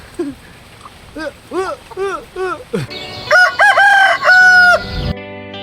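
A few soft clucks come first, then a rooster crows loudly and nearby in a long, drawn-out call that ends abruptly.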